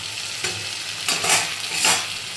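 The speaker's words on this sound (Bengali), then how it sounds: "ঢাকা খুলে শুক্তোটা একটু নেড়ে দেবো" Shukto, a mixed-vegetable dish, frying in a pan as it is stirred, with steady sizzling and a few distinct scraping strokes of the spoon, close and fairly loud.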